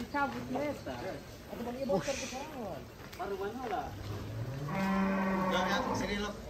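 Belgian Blue cattle low and moo several times, a drawn-out bellow near the end, with a person talking between the calls.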